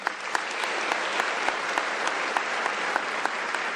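A hall full of people claps for the academic staff at a university closing ceremony, an even wash of many hands sustained throughout with a few sharper claps standing out, no talking.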